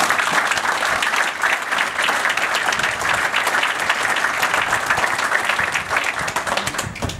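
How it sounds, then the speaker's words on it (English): A crowd at a military retreat ceremony gives a steady round of applause, dense clapping that holds at an even loud level throughout. "Please join me in a round of applause."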